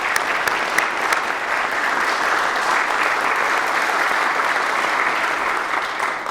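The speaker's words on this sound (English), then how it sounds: "give a round of applause for those who have decided to run and be here for your community" An audience at a 2023 bicentennial kick-off ceremony applauds steadily, a dense and even wash of clapping that holds for several seconds with no one speaking.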